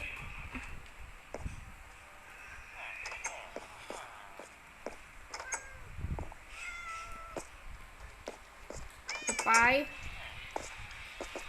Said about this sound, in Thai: ห้องในนี้มีแมวด้วย